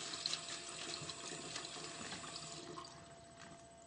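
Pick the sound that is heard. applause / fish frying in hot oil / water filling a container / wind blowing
water filling a container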